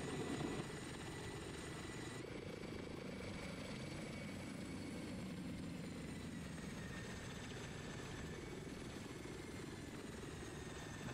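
Mi-8 and Huey helicopters in the DCS combat flight game, a steady loud rotor and turbine drone holding evenly throughout, with a faint whine on top and no talking.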